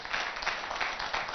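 Studio audience applause welcoming guests on a Hindi news program about Uttar Pradesh cabinet ministers, a brief, even wash of clapping that sounds fairly distant and muffled.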